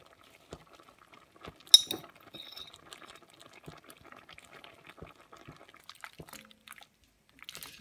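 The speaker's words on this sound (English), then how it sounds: "Give it a good mix and it should thicken up the juice that's in there." Spoon stirring gravy granules through a pot of beef stew, with soft scraping and faint liquid movement, one sharper clink near the start, continuing quietly under a light bubbling background.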